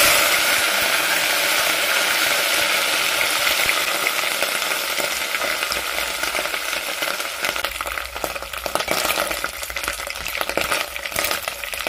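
Small omena fish fry in very hot oil, a steady loud sizzle with crackle, joined later by scraping and clinking as the fish are stirred around the pan.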